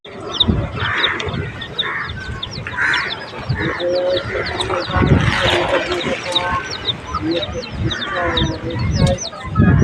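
Several chickens cluck and squawk nearby in an irregular, busy chorus, with people talking underneath.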